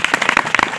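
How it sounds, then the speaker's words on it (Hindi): A church congregation claps hands in quick, steady unison, loud and close, filling the whole short stretch with a dense patter of palms. "तालियां बजा के प्रभु को महिमा दो"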